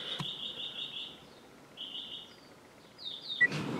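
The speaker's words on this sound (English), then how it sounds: "This damn bird is going the hell off." A pet bird in a home gives loud, repeated high-pitched electronic-sounding calls in bursts with short pauses, close and clear, with no talking over it.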